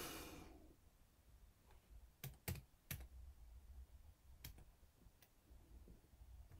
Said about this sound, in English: so that we're not sat watching me typing for hours on end